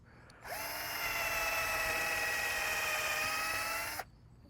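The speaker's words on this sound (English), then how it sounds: "And I like to drill the holes" A power drill boring holes in wood whirs at a steady high pitch for about three and a half seconds, close by, then cuts off abruptly.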